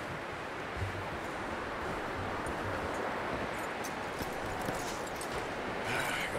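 Horse hooves clip-clopping in the video game Red Dead Redemption 2, steady and mid-distance beneath a constant windy outdoor wash, with no clear talk.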